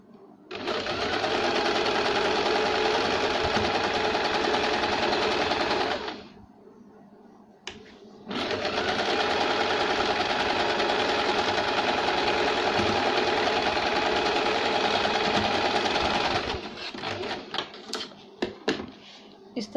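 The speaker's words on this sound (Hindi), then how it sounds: "इस तरह से हमने राइट साइड से थोड़ी सी किनारे पे सिलाई लगाई" A sewing machine stitches a blouse edge in two long continuous runs of fast, even motor chatter, separated by a brief pause, then ends with a few scattered clicks and knocks as the work is handled.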